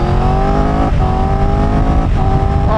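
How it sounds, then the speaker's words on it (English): A Triumph Tiger 1200 GT Explorer motorcycle under load on the highway gives a loud, close, continuous engine and intake drone, with its pitch climbing in two quick gear-change steps. "Oh, I love that intake sound."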